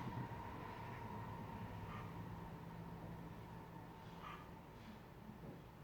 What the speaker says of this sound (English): Sorry about the train. It's actually pretty far away